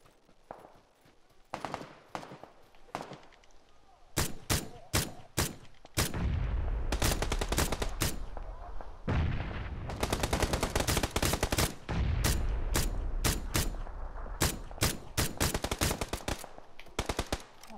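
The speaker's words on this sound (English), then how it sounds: "Oh, getting shot at." Gunfire in PLAYERUNKNOWN'S BATTLEGROUNDS: sharp single shots early, then loud rapid bursts of automatic fire in several volleys, some close and booming, with brief pauses between.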